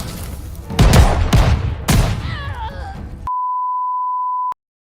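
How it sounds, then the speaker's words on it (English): Gunfire in Call of Duty: Vanguard's Stalingrad sniper mission, with a few loud close blasts and a whining tail, followed by a steady censor-style beep tone. "And there's that super shotgun again."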